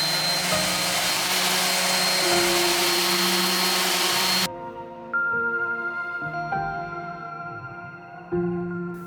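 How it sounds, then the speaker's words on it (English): A power sander runs on glued wooden table panels with a loud, close, steady whir that cuts off abruptly partway through, followed by lower intermittent motor hum and knocks; no talking. "Once dry, I sanded the panels to remove any excess glue spill"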